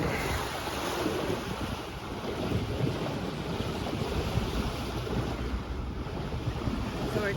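A sailboat motoring on a calm sea on a windless day, a continuous broad rush of water and low engine rumble with some microphone buffeting, steady throughout.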